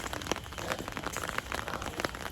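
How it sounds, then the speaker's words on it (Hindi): Steady rain pours down and patters onto a hard surface, a dense continuous hiss with scattered louder drops, close by and with no voices. "अरे बारिश आ रही है।"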